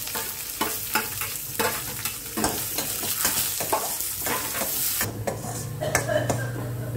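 Carrot pieces and curry leaves stir-fry in a pan with chillies for pulihora, a busy sizzle punctuated by repeated spatula scrapes and knocks against the pan, with a brief metallic clink.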